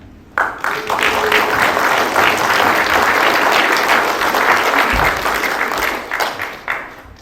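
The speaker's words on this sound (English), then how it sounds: "Thanks for the applause" An audience at a military promotion ceremony breaks into loud, sustained applause for a brigadier general guest speaker, starting abruptly and holding steady for several seconds before tapering off.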